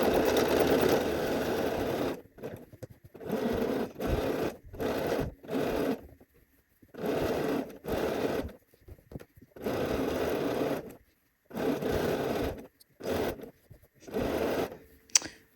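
A sewing machine stitches around the neckline of a Cashmerette Loring dress, running in repeated bursts of steady whirring separated by short pauses, close and clear with no talking.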